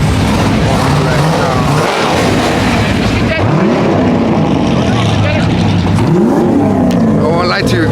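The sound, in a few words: Cadillac CTS-V car engine revving at a car meet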